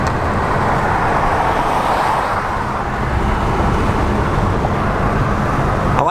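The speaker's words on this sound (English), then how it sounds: "I love how it feels when you hit the gas and it just goes" A Cadillac XTS with over 200,000 miles accelerates under throttle, producing a loud, steady engine and road roar that holds evenly, with no talking.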